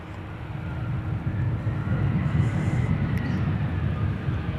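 Allegiant Air jet at Dallas Love Field, a low rumbling engine roar that swells gradually from moderate to louder and holds steady, heard from some distance with no talking.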